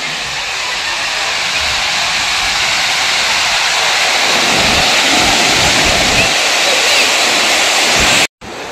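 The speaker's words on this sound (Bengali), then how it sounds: "একদম পিছনে এত জল ফুলফুল করে বয়ে চলেছে" Dassam Falls in Jharkhand roars as a loud, continuous rush of falling water, a broad unbroken wash of sound with no break until a brief dropout near the end.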